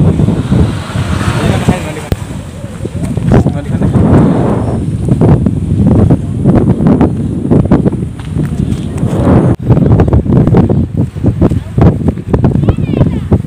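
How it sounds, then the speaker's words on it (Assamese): Strong wind buffets the microphone in loud, roaring gusts, with a voice talking intermittently underneath. "বহুত ধুনীয়া বতাহ মাৰি আছে বহুত ধুনীয়া বতাহ"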